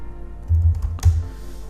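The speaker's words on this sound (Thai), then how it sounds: "พิมพ์คำนี้ลงไปครับ" A few quiet keystrokes on a computer keyboard, close and sparse, with soft low thumps and one sharper click, against a faint steady background hum.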